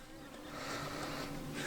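A honey bee flying close by near a hive during bad weather, a steady buzzing hum lasting throughout, fairly faint and alone.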